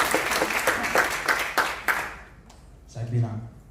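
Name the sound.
congregation applause for Jesus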